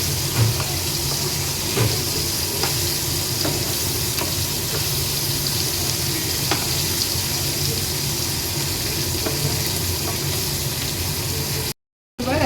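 Pieces of magur catfish fry in hot oil, giving a steady, close sizzling hiss that continues evenly with small crackles and a brief break near the end.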